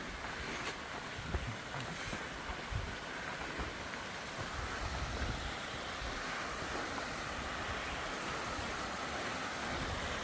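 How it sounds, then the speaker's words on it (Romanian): A waterfall roars steadily as a broad, constant rush of falling water, loud and unbroken throughout, with no talking. "Și am ajuns și la o frumoasă cascadă."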